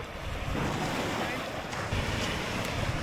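Waves wash onto a beach near Sydney in a steady, soft surf roar, mixed with gusting wind buffeting the microphone during a walk along the shore.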